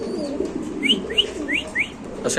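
Pigeons coo softly in the background while a few short, rising chirps repeat in a quick series, close by.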